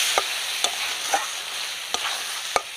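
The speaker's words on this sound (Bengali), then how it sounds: "এবার আমি ভেজে রাখা আলুগুলো দিয়ে দেব আলুগুলো দিয়ে এবার ভালো করে কষিয়ে নেব" Fried potatoes are stirred into a spice masala in oil, a steady close sizzle broken by five sharp spoon knocks against the pan at irregular intervals.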